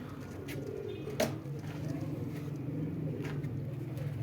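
Pure Washi pigeons coo in a low, continuous, rolling murmur close by, with a single sharp click near the start and faint background noise.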